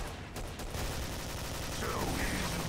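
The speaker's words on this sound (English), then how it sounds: "He's got a machine gun!" Rapid machine gun fire in the video game Killing Floor, a dense continuous burst of shots at moderate volume lasting the whole moment, with a faint voice mixed in.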